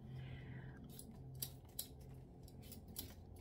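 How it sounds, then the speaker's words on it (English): Potatoes being peeled by hand, with a few quiet, crisp scraping and snipping clicks at irregular intervals over faint background hum. "No, I'm gonna peel some potatoes."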